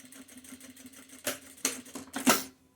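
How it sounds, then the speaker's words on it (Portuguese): A domestic sewing machine stitches two layers of patchwork cotton for a cup holder, a soft run of mechanical clatter building into three louder whirring bursts close by, with no talking. "Deixa a máquina puxar o seu tecido."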